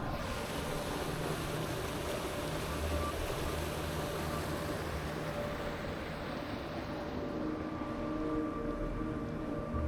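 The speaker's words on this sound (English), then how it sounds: "Check this waterfall out" A waterfall beside a wilderness canoe campsite in Wabakimi rushes with a steady broadband roar, constant and moderately loud, with no voices.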